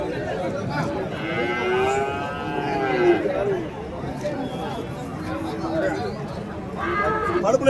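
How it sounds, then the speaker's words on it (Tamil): Bulls low repeatedly at a busy cattle market among working draught oxen, the moos rising over steady crowd chatter and voices talking nearby. "இங்கேயும் ஒரு ஜோடிங்க மேற்குத்தி காளைங்க கொண்டு வந்திருக்காங்க."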